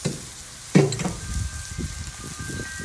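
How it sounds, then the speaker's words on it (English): A burst of boiling water splashes and hisses onto cornmeal in a bowl, followed by softer sizzling, bubbling sounds and light stirring. "I'm going to be adding a generous portion of hot water, boiling hot water, to the cornmeal."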